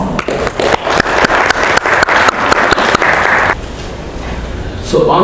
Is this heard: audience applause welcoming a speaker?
yes